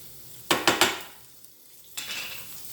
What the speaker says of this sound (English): give that pan a nice swirl